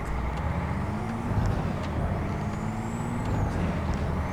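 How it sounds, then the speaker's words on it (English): Truck engine brake in American Truck Simulator on a California road: a sustained low engine drone with a rising and falling whine and faint hissy air bursts, steady and close, no voices. "That was just the engine brake making a noise."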